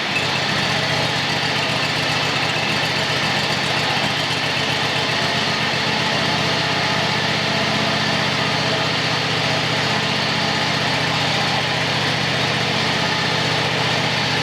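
A small engine that has sat unused for a long time runs at a steady idle with a close, even putter and rattle, holding a constant drone with no voices.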